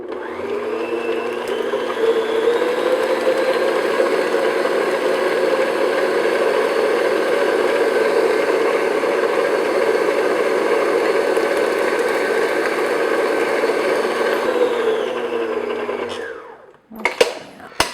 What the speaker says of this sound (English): So I'm going to beat this first egg in, and then I'll add the second one